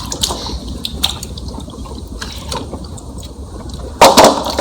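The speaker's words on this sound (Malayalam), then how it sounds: "അറുത്ത് കൊടുന്ന് വെച്ച കുമ്പളങ്ങയൊക്കെ വെള്ളത്തിലിട്ട് വെച്ചിട്ടുണ്ട്. ഇതൊക്കെ നല്ലോണം ഒന്ന് കഴുകിയെടുക്കണം." Cut ash gourd pieces being washed by hand in a vessel of water, with soft sloshing, drips and wet squishes throughout and a louder splashing burst near the end.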